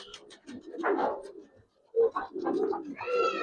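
Silver racer pigeons cooing up close, several throaty rolling coos in uneven bursts with short pauses between them, no voices.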